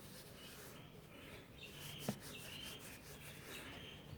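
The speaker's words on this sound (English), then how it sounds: "that's how you polish a mud ball" A dorodango mud ball with a hard shell being rubbed and polished by hand, a faint, steady soft friction hiss with one small click partway through.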